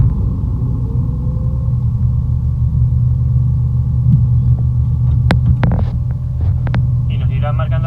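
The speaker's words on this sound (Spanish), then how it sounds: "Arrancamos el motor." A Mini Cooper R50 engine runs at a steady low throbbing idle with a constant hum, close by, and a few sharp clicks and brief voice sounds over it toward the end.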